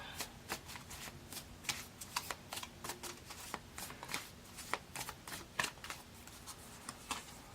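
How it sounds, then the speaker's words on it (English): Tarot cards are shuffled in quick, irregular riffles and taps, soft and close, with brief pauses between bursts. "can't shuffle"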